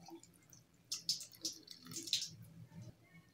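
A little water goes into a mixer jar holding onion and a green chilli, making a few quiet, brief splashing and dripping bursts close by over roughly a second and a half.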